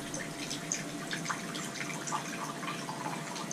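Rice vinegar being poured into a homemade jalapeño hot sauce mix of honeydew, pineapple and key lime juice, a soft, steady trickle of liquid with faint splashy drips running close by for a few seconds, with no voices.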